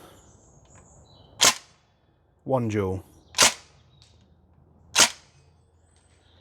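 A Northeast Airsoft Mini UZI gas blowback rifle fires three sharp, loud single shots spaced about a second or more apart, with a brief burst of speech between the first and second shots.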